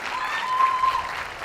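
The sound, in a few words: applause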